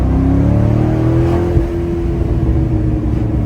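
A Corvette C6 engine accelerating hard, a loud continuous rising roar with a brief dip partway through, close up with no talking.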